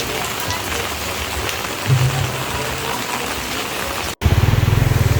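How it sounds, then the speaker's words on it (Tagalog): Steady heavy rain hisses across a wide band, with a low engine rumble beneath it that swells briefly and then pulses near the end. "Ganito talaga siya pag malakas yung ulan."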